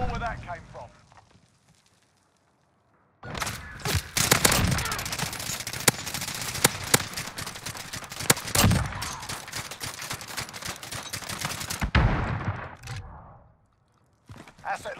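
Akimbo Sykov pistols in a video game fire a long rapid burst of loud, dense gunshots after a quiet pause, with brief shots again near the end, while a voice talks over it.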